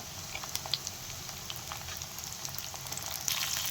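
Shredded cabbage with green chillies sautéing in a pan for poriyal, a close continuous crackling sizzle with small popping bursts.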